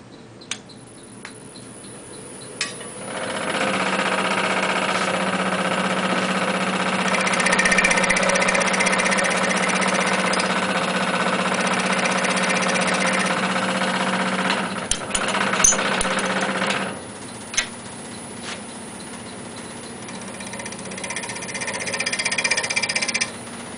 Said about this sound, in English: Now what we'll come back with the skew or a gouge and remove a little bit of this wood